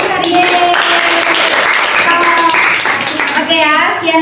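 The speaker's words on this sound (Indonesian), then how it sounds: "Tepuk tangan untuk kalian" A classroom of children claps together in a loud, steady burst, with young voices calling out over the clapping.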